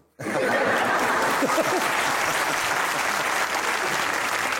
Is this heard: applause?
yes